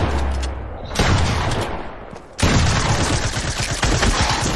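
Rapid, dense gunfire in a battle royale shooter, a steady loud barrage of shots that briefly eases before surging again into sustained automatic fire.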